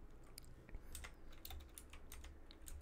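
Quiet keyboard typing in a video game: irregular clicky keystrokes over a low background hum, faint and steady for a few seconds, with no speech.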